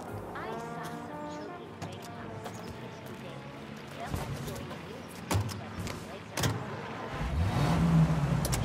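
Old car driving in Mafia: Definitive Edition, a low engine rumble running steadily under a conversation between two people, with a few clunks and a rising engine roar near the end.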